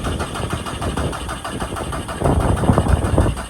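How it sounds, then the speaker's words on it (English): A VW 1.9 TDI PD130 diesel engine cranks without catching, the starter churning in a steady rhythmic chug that grows louder partway through, with no talking. "But it's still not starting."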